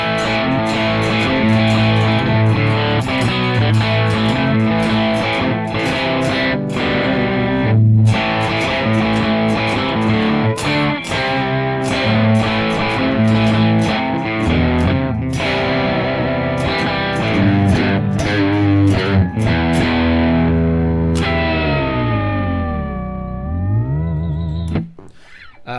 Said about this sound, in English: was a dynamic mic, but not in the middle of the cone, like on the side of the cone